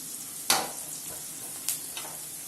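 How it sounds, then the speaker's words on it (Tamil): Garlic and onion sauté in hot oil for a Tamil ennai kathirikkai kulambu, giving a steady soft sizzle with a few sharp spoon scrapes and stirs standing out against it. No one speaks. "அந்த பூண்டும் அந்த வெங்காயமும் நல்லா அந்த எண்ணெயில் வதங்கின்றதுக்கு அடுத்து தான் இந்த தக்காளி வந்து நம்ம போட போகிறோம்"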